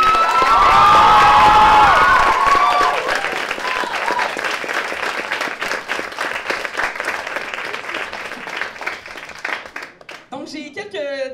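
An audience at a cégep student show final bursts into loud applause and cheering with shouts, the clapping thinning out into scattered claps before a voice begins talking at the end.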